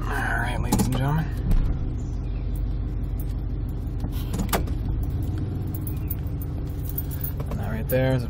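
A 1994 Ford Bronco with a 302 V8 idles steadily nearby with a low, even rumble. Someone speaks briefly at the start and the end, and keys jangle and interior clicks sound over the engine.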